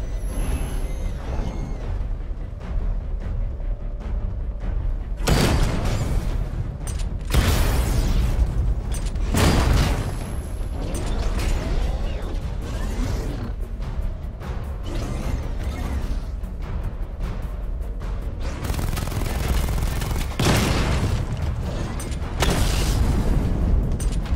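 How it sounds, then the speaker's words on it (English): Batmobile missile barrage firing in Batman Arkham Knight, heavy booming bursts and whooshes recurring every few seconds over a constant rumbling engine and mechanical bed, loud and dense throughout. "Charge the missile barrage to level 2 to destroy up to 4 targets at once."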